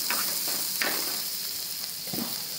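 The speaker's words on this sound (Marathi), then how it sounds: "कांदा चांगला परतून घ्यायचा लाल होईपर्यंत" Chopped onion frying in a pan until it turns red, a steady close hiss and sizzle with a few soft stirring scrapes and no talk.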